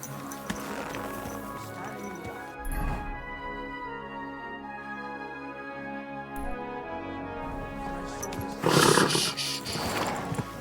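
A horse in the medieval video game Kingdom Come: Deliverance 2 neighs loudly and close near the end, with hoofbeats and game ambience before it and brief spoken lines.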